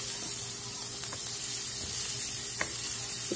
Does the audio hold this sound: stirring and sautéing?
yes